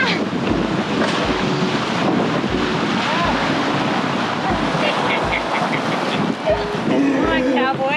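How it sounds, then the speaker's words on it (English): Strong wind buffets the microphone outdoors near open water, a loud constant roar with rumbling gusts throughout, and faint voices are heard under it. "There's a bit of wind today."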